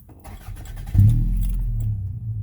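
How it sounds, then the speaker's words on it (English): A 2000 Toyota Camry with 275,469 miles and a knockoff Flowmaster 40 series muffler cranks briefly, fires, then settles into a smooth, steady, close idle. "She fires up and idles like butter"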